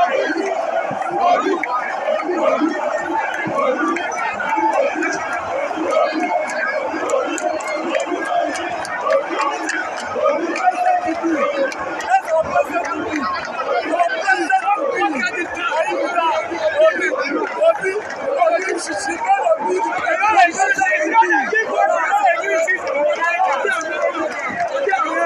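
Large, dense crowd of supporters packed around a politician's departure at Alaba International Market, Lagos: continuous babble, shouting and bustling movement, loud and close throughout, with voices overlapping constantly.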